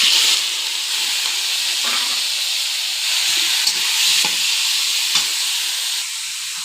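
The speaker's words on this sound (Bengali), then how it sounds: "নুন হলুদ দিয়ে চিংড়ি মাছগুলো আমি ভেজে নেবো এখন।" Shrimp fry in hot oil with salt and turmeric in a wok, giving a loud, steady sizzling hiss that barely changes, with a few soft stirring scrapes and no talking.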